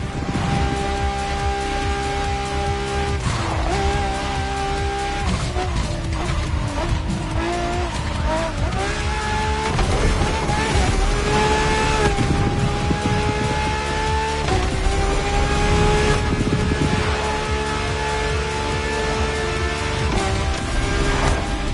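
A prototype supercar in The Crew Motorfest racing game roars at high revs, with rising and falling engine pitch across gear shifts and repeated tyre squeals and skids, loud and continuous throughout.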